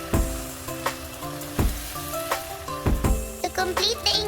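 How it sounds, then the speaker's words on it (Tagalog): Potatoes and carrots for pork picadillo are tipped into a hot pan and stirred, giving a steady sizzle with repeated sharp clacks of a utensil against the pan and a musical background. "we are now going to add the potatoes and carrots. Mix the ingredients."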